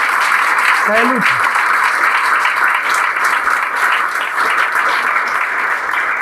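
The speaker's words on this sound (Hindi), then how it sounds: "भाई खड़ा होकर ताली बजा दीजिए लोग" Sustained audience applause fills the room at an event celebrating village students who became IITians, steady and loud throughout, with a voice speaking briefly over it near the start.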